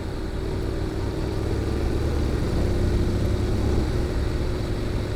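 Honda NC750X motorcycle with a GPR aftermarket muffler, engine running in a steady low exhaust rumble with no clear revving, moderately loud and close, without speech.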